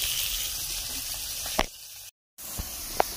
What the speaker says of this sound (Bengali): এই যে মাছ ভেজে নিচ্ছি